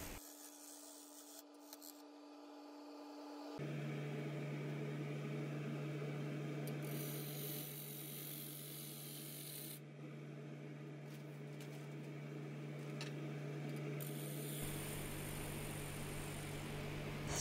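A wood lathe spinning a dense, dry walnut salad bowl: a low motor hum, then a steady tone and a constant rasping whir as the speed rises to about 1,000 RPM, close and continuous, with no talking.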